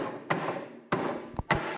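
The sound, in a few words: chopping wood with an axe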